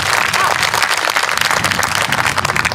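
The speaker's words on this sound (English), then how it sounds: "So let's give him a big round of applause." Dense, loud crowd applause at a Freedom Day political rally, a steady roar of many hands clapping with cheering mixed in, holding strong for the whole stretch.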